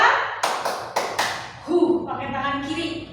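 Hand claps in a classroom clapping game, several crisp close slaps in quick succession, then a voice calls out and speech continues over the end.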